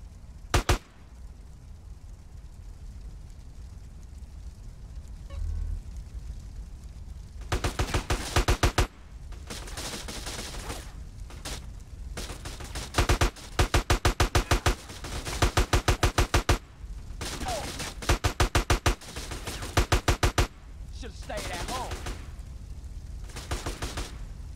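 Gunfire in GTA San Andreas: repeated bursts of rapid shots in long volleys, loud and close, separated by short pauses over steady background game noise.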